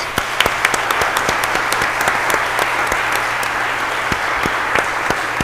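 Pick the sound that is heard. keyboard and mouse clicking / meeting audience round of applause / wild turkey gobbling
meeting audience round of applause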